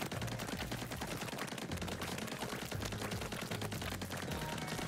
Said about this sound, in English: I just have to repeatedly shoot